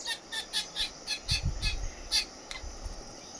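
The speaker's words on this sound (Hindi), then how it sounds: "लड़ाई हो गई रे चिड़ियों की भी।" Several birds squawk and call in rapid bursts during a squabble, sharp repeated cries spaced about every quarter second, fairly close outdoors, with a brief low rumble in the middle.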